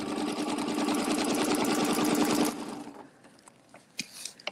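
A sewing machine stitches a placemat in a fast, steady whirring run that stops after about two and a half seconds, followed by a few light clicks and handling sounds.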